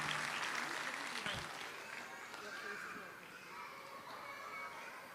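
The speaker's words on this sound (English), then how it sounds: "Let's hear a big round of applause for all of your children" Audience applause for children at a school annual day event, a dense steady clapping from a crowd that holds throughout and fades slightly near the end, with faint children's voices mixed in.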